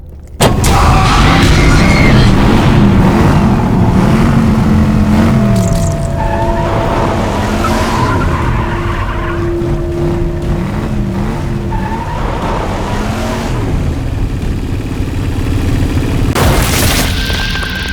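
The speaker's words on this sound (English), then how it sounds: "the same car from Riley's drawings starts driving sharply at us" In the video game Bendy: Secrets of the Machine, a car comes driving sharply at the player. Its loud engine roars continuously over booming, clanking game sounds and shifting tonal whines for the whole stretch.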